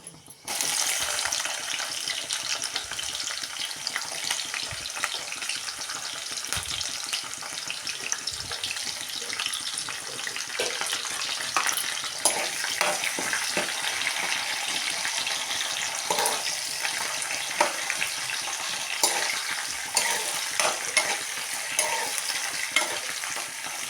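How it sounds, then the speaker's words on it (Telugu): Onions and green chillies sizzling in a pan, a loud continuous fry with frequent stirring scrapes and clatter over it, and a faint running-water sound in the background, no talking. "ఉల్లిపాయలు పచ్చిమిరపకాయలు కూడా వేసేసుకుంటున్నాం"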